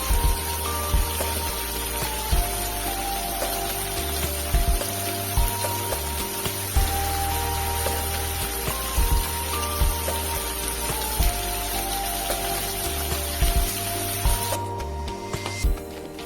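Shrimp frying in oil in a pan over medium heat, a steady dense sizzle with crackling pops running throughout, close and alone with no talk.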